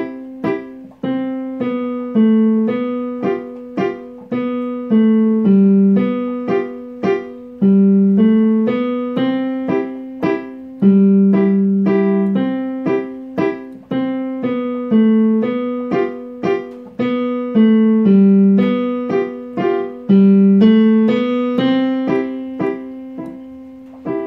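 Music in waltz time with a stressed downbeat on each three-beat measure, a steady, loud, continuous melodic line over a bass pattern with no pauses between measures.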